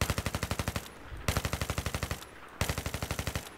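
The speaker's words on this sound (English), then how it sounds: "So first, let's shoot without controlling the recoil." A G36C assault rifle fires in Battlefield 3 in three sustained full-auto bursts, each a rapid, evenly spaced string of loud close shots separated by brief pauses.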